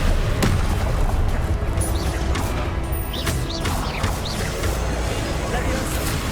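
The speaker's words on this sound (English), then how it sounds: "Expelliarmus. Accio." An Accio spell is cast in combat in Hogwarts Legacy, among loud magical booms, crashes and sharp impacts over a dense rumbling battle bed, with a voice talking over the action.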